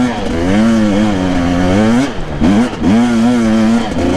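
A motorbike fitted with MBL footrests revs hard as the rider pulls away, its engine note climbing and falling in two strong bursts with a brief dip between them, loud and close.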